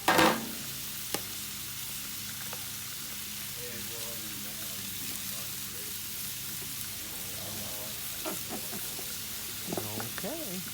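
Onions sizzle and hiss steadily in a hot pan at an outdoor grill, a continuous broadband frying noise with a few clinks and stirring sounds, and a voice speaks briefly near the end.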